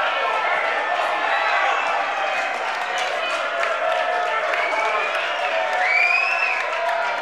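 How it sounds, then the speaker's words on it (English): A live crowd at a women's professional wrestling invitational tournament cheers and claps continuously, a loud mass of whistles, shouts and applause that holds steady throughout. "This crowd is lit."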